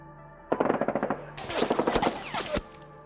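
Rapid machine-gun gunfire effect during a Konflikt '47 tabletop wargame battle, Soviets versus US, fired at a Soviet mortar squad: a fast rhythmic burst of loud shots, then a denser, brighter volley of overlapping gunfire ending abruptly.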